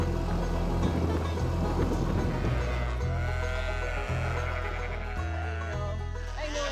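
Sheep bleat on a Texas ranch on a day of working livestock, their calls rising over a steady low rumble of machinery, with a voice speaking in the background.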